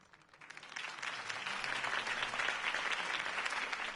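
Crowd applause following a political campaign speech by Harvey Dent, swelling from a faint start into sustained, dense clapping that holds steady and loud with no voices on top.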